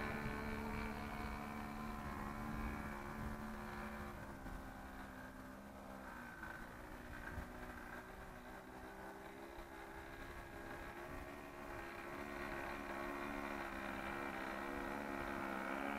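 Engine of a 1980 Pietenpol light aircraft during landing, a steady droning hum with little change, heard from inside or close to the plane.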